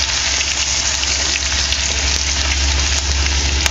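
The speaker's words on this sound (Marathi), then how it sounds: "तेल गरम झालेले आहे आता आपण यामध्ये ना जिरं मोहरी घालूया हे बघा जिरं मोहरी चांगलं तडतडलेले आहे" Cumin and mustard seeds fry in hot oil for tempering, giving a loud, continuous close-up sizzling hiss with faint crackling throughout; no one speaks.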